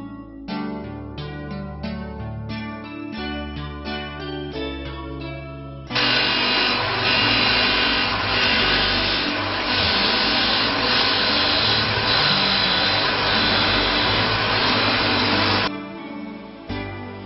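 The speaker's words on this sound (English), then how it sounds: "Now the crankshaft sample is being placed in the cutting machine. And the sample is holded in clamp. Now the cutting operation is started." A metallographic cutting machine slices through a two-wheeler crankshaft sample, giving a loud, steady, broadband grinding hiss that runs for about ten seconds after a stretch of softer mechanical sounds, then cuts off.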